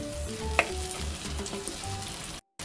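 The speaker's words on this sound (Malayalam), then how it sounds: "അപ്പോൾ ഒന്ന് ഒരു മിനിറ്റ് ഒന്ന് ഫ്രൈ ചെയ്തെടുക്കുക" Eggs fry in a pan for an egg masala, giving a steady close sizzle with soft bubbling pulses and a sharp tap near the start. The sound cuts briefly to silence near the end.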